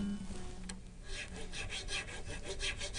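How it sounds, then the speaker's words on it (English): A small file rasping back and forth in the nut slot of an acoustic guitar during setup, a close, continuous scraping with rhythmic strokes, no talk. "Pull out our 16 file here."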